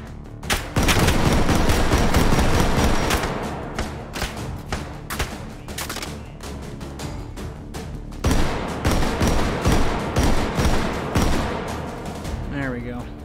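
Loud, rapid gunfire from a firearm in the VR shooting game H3VR, with dense bursts and volleys cracking near and close throughout, briefly easing before another heavy run of shots.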